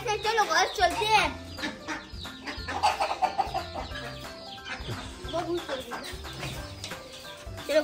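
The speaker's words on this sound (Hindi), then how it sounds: "हम अपने देसी मुर्गियों का हाल जानते हैं" Several desi (native Indian) chickens cluck and squawk close by in an irregular, busy chatter, with a few sharper calls standing out.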